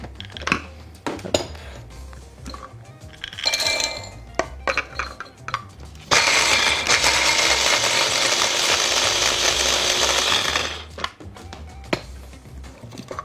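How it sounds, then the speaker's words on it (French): Whole hazelnuts are coarsely crushed, heard as scattered clinks and rattles followed by a loud continuous grinding, rattling burst of a few seconds, then more light clinks and knocks. "Dans un premier temps, on va concasser grossièrement les noisettes."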